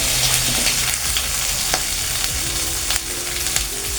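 Spices and turmeric sautéing in hot oil in a pan for chickpea ghugni, a loud, steady sizzle close by, with faint scrapes as the mixture is stirred and no voices.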